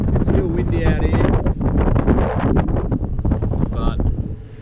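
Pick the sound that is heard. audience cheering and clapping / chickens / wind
wind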